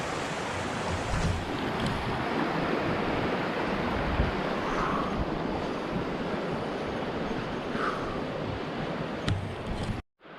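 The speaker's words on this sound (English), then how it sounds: "It'll be nice to get my water from this beautiful creek." A mountain creek in the Tonquin Valley backcountry rushes steadily as broadband water noise, loud and continuous with some wind, then cuts off abruptly near the end.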